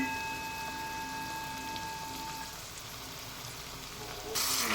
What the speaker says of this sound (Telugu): ఈ వంకాయ అయితే వేగుతున్నాయి